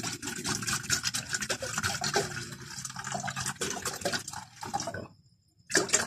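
Water is poured to refill a heater for boiling, a steady splashing, gurgling pour that runs for several seconds, stops briefly near the end, then starts again, close and fairly quiet.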